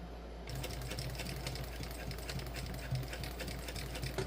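A sewing machine stitches a crossbody bag, its needle hammering in a fast, steady mechanical rhythm at close range that starts after a brief quiet moment and runs without pause.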